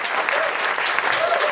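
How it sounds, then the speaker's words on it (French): Studio audience clapping on a French television dating show, a brief, dense burst of applause heard alone at moderate volume. "Et ça s'applaudit, franchement."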